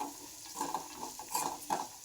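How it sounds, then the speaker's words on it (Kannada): Garam masala, about a tablespoon, fries in oil while being stirred: soft sizzling with several quick scraping strokes close by, no voices. "1 ಟೇಬಲ್ ಸ್ಪೂನ್ ಅಷ್ಟು ಗರಂ ಮಸಾಲ, ಇಷ್ಟನ್ನು ಚೆನ್ನಾಗಿ ಫ್ರೈ ಮಾಡ್ಕೊಳ್ಳೋಣ ಆಯಿಲಲ್ಲಿ"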